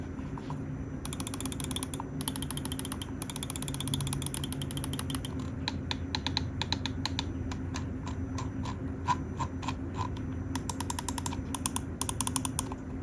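Rapid bursts of crisp clicks from a Hitscan Hyperlight gaming mouse during a click test, coming in quick trains with short pauses, close and sharp over a faint background hum.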